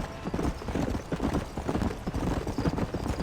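Horse hooves clip-clop steadily in Red Dead Redemption, a quick, close, continuous rhythm of hoofbeats over dirt, loud and alone without talk.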